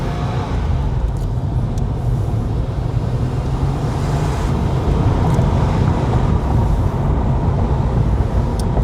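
A Porsche 964 America Roadster being driven gently while cold, with a steady low engine and road rumble plus wind buffeting the open cabin, continuous and fairly loud.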